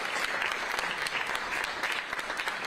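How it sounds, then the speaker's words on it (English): Audience applause for city council candidates at a panel event in Lynchburg, a steady wash of many hands clapping at even loudness throughout. "can we give all of our candidates a big round of applause?"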